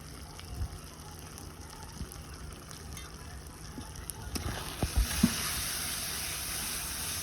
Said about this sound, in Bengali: নাড়াচাড়া করে নিব ভালো করে যতক্ষণ না তেল ছাড়ছে